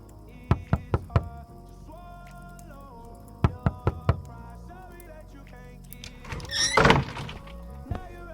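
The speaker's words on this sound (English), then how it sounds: "Hey, you didn't hear me knocking?" Two bursts of sharp knocks on a door, three quick raps and then four, close and loud, followed by a brief rustling thump in a quiet room.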